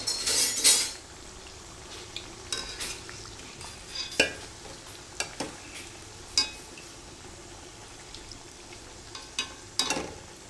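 Doddapatre bajji fritters fry in oil under a soft, steady sizzle, broken by scattered sharp clinks and taps of a metal utensil against the pan.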